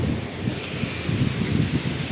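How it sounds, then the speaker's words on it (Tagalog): Strong mountain wind buffets the microphone in drizzly weather, a continuous loud roaring rush with low, gusty thumps and no other sounds. "Pasensya na kayo kung maugong dahil sobrang lakas ng hangin."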